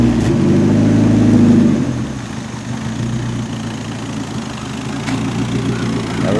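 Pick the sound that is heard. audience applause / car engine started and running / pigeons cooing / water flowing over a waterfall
car engine started and running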